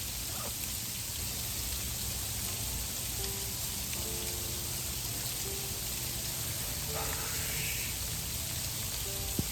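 Steady, dense hiss of heavy snowfall coming down outdoors, continuous and fairly even throughout, with no talking.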